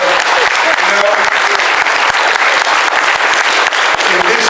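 A studio audience claps in sustained applause, a dense, loud wash of hand claps that holds steady throughout with no pause.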